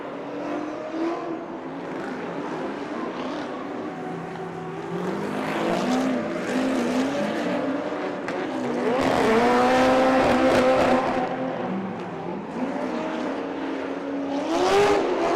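Drift cars battle at a Formula D pro-am round at Lake Erie Speedway, engines revving and rising in pitch as they pass, with tires squealing and roaring louder near the middle and end.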